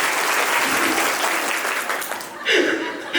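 A school audience at an Independence Day celebration claps in a dense, continuous burst of applause that swells briefly before fading.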